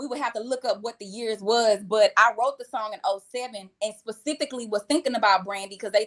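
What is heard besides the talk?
No distinct noise like a dog, phone or traffic.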